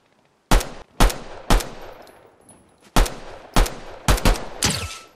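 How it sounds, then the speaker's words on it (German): Pistol shots ring out in the video game Fortnite Chapter 5, a string of about eight loud, sharp cracks in irregular bursts, each followed by a brief decaying tail, with no talking over them. "Okay, Schüsse."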